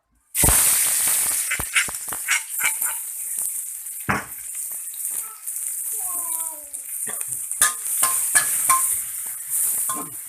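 Sizzling vegetable oil in a pan over medium heat with repeated scraping and clinks of a spatula stir-frying enoki mushrooms and pork, close and busy, a voice briefly audible underneath.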